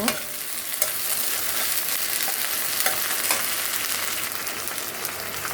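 Ginger, garlic and cumin paste with sliced green chilies being stirred in a hot oiled pan, a busy close sizzle broken by repeated scraping and clinking strokes, steady throughout without any voices.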